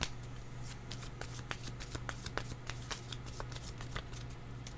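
Tarot cards are shuffled close up, giving quick crisp riffling and flicking clicks in an uneven rhythm over a low steady hum.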